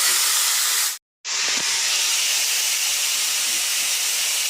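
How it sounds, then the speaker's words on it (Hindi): Saag greens cooked with tomato and salt fry in a pan, giving a loud, steady broadband sizzle that drops out briefly near the start and then continues evenly without talk. "तो बस इसे भून के मैं उतार लेती हूँ।"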